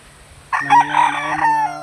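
A rooster crows once nearby, a loud stretched call rising after a short quiet start and holding to the end.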